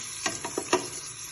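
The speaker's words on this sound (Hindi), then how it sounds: "अब हमने इसमें अदरक और लहसुन का पेस्ट डालना है।" Ginger-garlic paste dropped into hot oil in a pan, sizzling steadily with several short stirring scrapes and spits heard up close, no talking over it.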